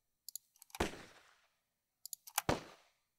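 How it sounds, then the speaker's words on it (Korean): A gun is dry fired with no ammunition loaded, giving two separate bursts of sharp, quiet mechanical clicks and snaps, each ending in a louder metallic clack. "드라이 파이어라고 해서 네, 그냥 안에 탄약 없이"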